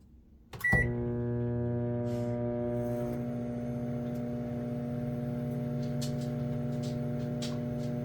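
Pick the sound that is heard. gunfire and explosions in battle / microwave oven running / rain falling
microwave oven running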